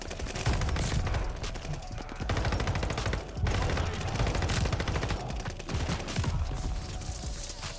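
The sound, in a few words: gunfire in the video game Call of Duty Vanguard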